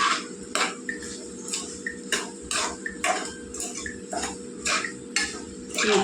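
Ridge gourd curry with onion pieces is stirred in a pan, a spoon scraping and clinking against the metal in regular strokes about once a second over a steady background hum, with no talking.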